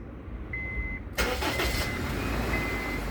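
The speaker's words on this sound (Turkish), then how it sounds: "Gördüğün gibi lambalar söndükten sonra araç kendisi çalıştı" After a brief electronic tone, a diesel car engine catches abruptly via a keyless start system and settles into a steady, loud idle.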